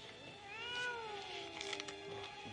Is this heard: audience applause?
no